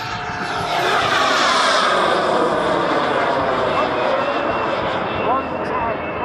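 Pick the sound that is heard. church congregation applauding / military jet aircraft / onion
military jet aircraft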